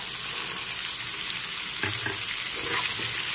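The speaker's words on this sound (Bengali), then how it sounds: "তো এখন একটু ভালো করে নেড়ে চেড়ে ভেজে নিচ্ছি।" Pumpkin and chickpeas frying together for a Bengali-style curry, a continuous close sizzle with stirring clinks and scrapes arriving in the latter half.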